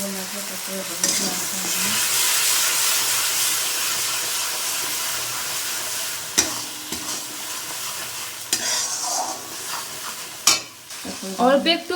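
Poppy seed and mustard paste fries in a pan with a broad, hissing sizzle, then is stirred, bringing sharp scrapes and clinks against the pan close up.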